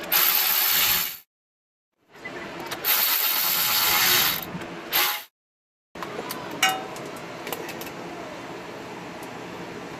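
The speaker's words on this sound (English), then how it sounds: "you need to loosen these bolts, then you can take out the axle" A ratchet loosens bolts on a Toyota Tundra axle backing plate, with three loud bursts of rapid ratcheting split by brief silences, then quieter clicks and tool handling close by.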